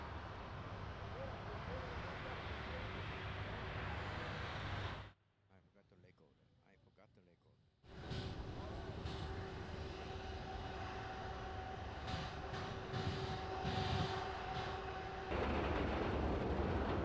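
An Independence Air airliner rolls past on runway 9 at Miami International Airport, a loud continuous roaring jet engine rumble that briefly drops away before surging back, steady and close.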